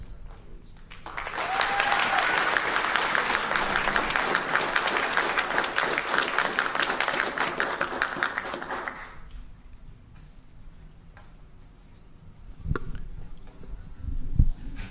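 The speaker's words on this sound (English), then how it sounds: "I'd like another round of applause for them" A crowd at a school committee meeting applauds students from the Parlin School, a dense burst of clapping that builds quickly, holds for several seconds, then fades to scattered room noise and a few faint taps.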